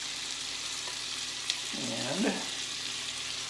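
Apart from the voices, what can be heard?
butter sizzling with green pepper, celery and onions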